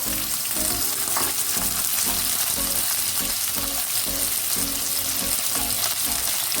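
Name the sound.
frying chopped tomatoes in a pan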